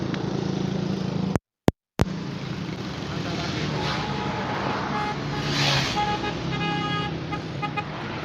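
Road traffic on a badly damaged stretch of the National Highway in Karachi, with a steady roar of passing cars and buses and a car horn tooting near the middle, briefly cut out early on, with talk over it.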